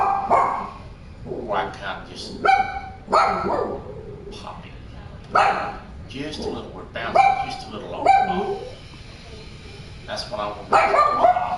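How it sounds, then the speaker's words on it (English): A dog barks repeatedly in short, loud, irregular bursts close by, mixed with yips, while someone talks through a fishing live stream. "And that dog has barked."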